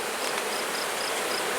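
A steady, close buzzing of many honey bees around a hive fills the air, a continuous insect drone with no voices.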